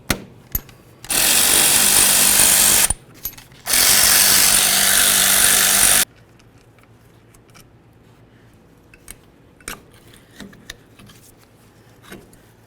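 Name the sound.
power tool removing brake caliper slider bolts, Chevy S-10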